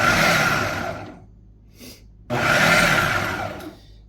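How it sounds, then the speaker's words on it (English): A food processor chopping bacon for bison burgers roars in two loud whirring bursts, with a short quiet pause between them. "Bacon in the food processor."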